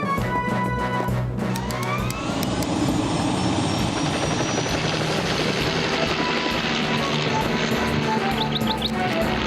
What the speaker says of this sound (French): Je prends l'hélicoptère.